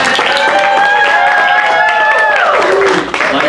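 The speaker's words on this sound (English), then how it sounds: "The ensemble gets a cheer." A musical audience cheers and applauds the ensemble at the end of a number, loud crowd noise mixed with a sustained sung or held musical note that slides down near the end.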